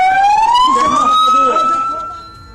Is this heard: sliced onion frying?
no